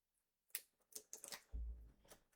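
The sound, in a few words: cutting card stock with a paper trimmer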